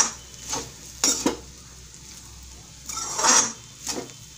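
Sabudana khichdi with salt is mixed in a pan, a few separate bursts of spoon scraping and stirring over a low background hiss of gentle cooking.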